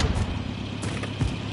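A vehicle driven in a team deathmatch video game, with a steady engine rumble and some mechanical rattling close by for a brief moment, with no talking.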